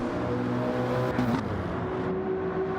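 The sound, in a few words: race cars driving on track in Gran Turismo 7 video game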